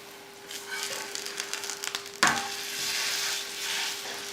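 Ragi roti frying in a little oil in a pan over a low flame, with a steady soft sizzle and a brief sharp clatter partway through.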